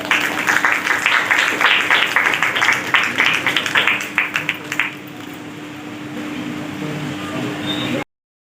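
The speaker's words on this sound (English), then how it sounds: "so a big round of applause" Audience applause at a Rotary Club event, a dense burst of clapping from a crowd indoors that fades out after about five seconds, leaving low room noise and a steady hum.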